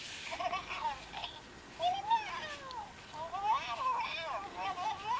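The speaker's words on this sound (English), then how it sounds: "He's making slightly cat noises." A Hatchimals Hatchibaby toy still inside its egg gives soft, cat-like mewing and chirping electronic sounds in several short phrases, faint and close, with a person speaking quietly around them.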